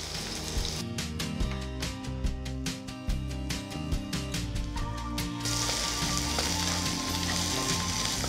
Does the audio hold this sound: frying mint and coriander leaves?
yes